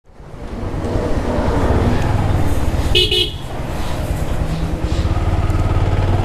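A vehicle horn sounds briefly among loud idling motorcycles and traffic at the start of a slow bike race, with engines rumbling steadily throughout.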